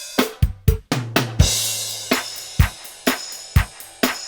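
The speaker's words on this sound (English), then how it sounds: "when you put all of those drum and percussion parts together," Layered drums and percussion from Yes's "Owner of a Lonely Heart" play a steady groove: punchy kick and snare hits, conga drums, handclaps and a cymbal wash, loud and close with no voices.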